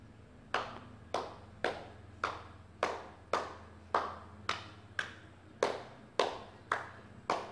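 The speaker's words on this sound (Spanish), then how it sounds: "Caminaremos en diferentes direcciones aplaudiendo." Single sharp claps in a steady, even rhythm, about one every 0.6 seconds and a dozen in all, made while walking in different directions during a physical-education warm-up, each ringing briefly in a reverberant room over a faint background hum.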